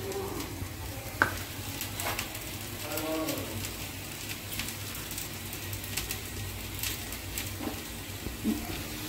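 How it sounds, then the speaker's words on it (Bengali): Onions going into caramelized sugar and hot oil for mutton pulao, a low continuous sizzle with occasional sharp clicks and stirring knocks, fairly quiet and steady. "চিনিটা একটু লাল করে ভেজে নিয়ে তারপরে এর মধ্যে পেঁয়াজটা দিয়ে দেবো"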